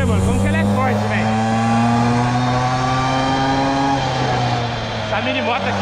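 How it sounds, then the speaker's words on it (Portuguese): A mini motorcycle engine drones loud and steady while being ridden, pitch holding then briefly dropping, with a voice faintly over it. "Essa mini moto aqui é braba"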